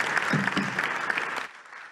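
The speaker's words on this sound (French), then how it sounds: "accompagné par les applaudissements d'une foule en délire" An audience at a startup business event claps enthusiastically, a dense burst of applause that holds for over a second before abruptly dropping to quieter scattered clapping.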